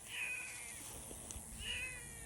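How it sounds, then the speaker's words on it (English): Two drawn-out meows, faint and somewhat distant, separated by a short pause over quiet outdoor background noise. "I hear a cat."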